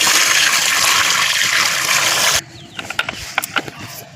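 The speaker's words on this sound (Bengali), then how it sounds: "তো আমি এই যে জল দিয়ে পুরোটা ভর্তি করে দিলাম" Water gushes loudly and steadily into a tub for replanting lotus tubers for a couple of seconds, then cuts off abruptly, leaving a few scattered clicks and knocks nearby.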